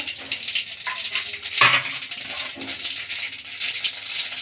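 Mustard seeds and cumin crackle in hot cooking oil in a pan, a steady dense sizzle and popping throughout with one louder burst near the middle, no voices.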